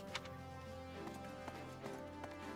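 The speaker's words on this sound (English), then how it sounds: "I'm riding this prize horse to victory." Horse hooves gallop in the video game Fire Emblem Warriors: Three Hopes, a steady run of quiet clip-clop beats over a busy, low-level game soundtrack.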